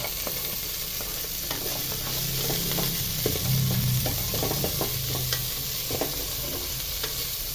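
Young ginger sautéing in hot oil in a pot for beef bulalo, a steady close sizzle with scattered stirring scrapes and knocks running through it.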